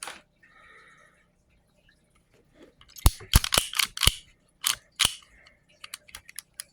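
A Quality Firearms SA .25 ACP pistol has its trigger worked while on safe. After a quiet stretch comes a quick run of sharp, close metallic clicks, then a few lighter clicks trailing off.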